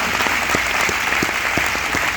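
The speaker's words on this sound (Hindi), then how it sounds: "आप सब लोगों के लिए बहुत ज्यादा जोरदार तालियां" Audience applause breaks out at a Vestige meeting for newcomers attending for the first time, a steady dense crowd clapping that fills the whole moment with no talking.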